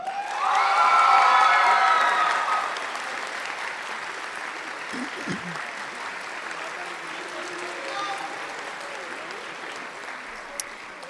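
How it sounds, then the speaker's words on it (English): A high school graduation audience breaks into loud applause that swells for a couple of seconds, then settles into lighter, scattered clapping and crowd murmur. "Please give a round of applause for Mr. Sheridan and Ms. Cappuccino."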